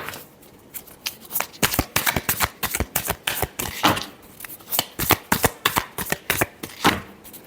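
Tarot cards being shuffled by hand, a quick series of crisp riffling and slapping bursts in uneven clusters, close and clear with no talking.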